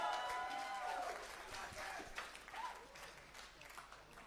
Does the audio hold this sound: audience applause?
yes